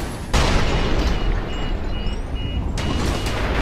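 A loud, sustained rumbling blast from a rocket launcher explosion in the video game Fear 2 sets in after a brief quieter start and holds with dense broadband roar throughout, with faint high electronic tones in the middle.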